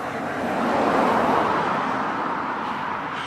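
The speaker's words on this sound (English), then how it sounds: "I got some traffic running back and forth." Steady road traffic rolls past continuously, a broad rumbling wash of cars and other vehicles on a roadway, moderately loud and even, heard through earbuds with noise canceling switched on, with no talking.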